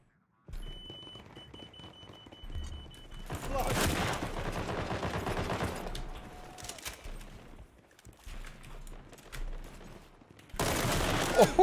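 Gunfire in the World War 3 video game: a dense burst of rapid shots in the middle and another loud volley at the end, with quieter stretches and faint background tones between.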